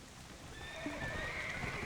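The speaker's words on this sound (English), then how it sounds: "I just got this horse, so it's still being trained" A horse whinnies briefly in the online game Black Desert Online, faint and set against low ambient game sound, with no talking.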